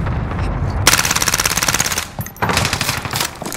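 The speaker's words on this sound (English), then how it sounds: "Enemy sentry gun active." Automatic sentry gun in a Call of Duty match firing long rapid bursts, loud and close, with a brief pause between two sustained volleys.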